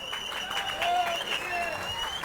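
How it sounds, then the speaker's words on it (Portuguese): Steady applause from a crowd at a political party membership event, a dense patter of clapping with a faint whistle-like tone running through it, fairly distant. "Uma salva de palmas aí pro nosso presidente."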